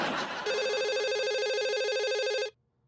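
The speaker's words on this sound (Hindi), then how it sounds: "अरे यार, ये किसका वक्त का फोन है?" A landline telephone rings indoors in a TV comedy scene: one continuous electronic warbling ring, loud and near, that stops abruptly after about two seconds, with faint background sound before it.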